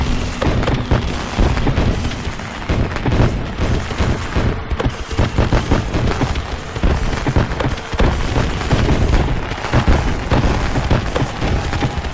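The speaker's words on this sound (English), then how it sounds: "More fireworks" A dense, loud barrage of fireworks, rapid booms and crackling bursts overlapping continuously with no pauses and no voices.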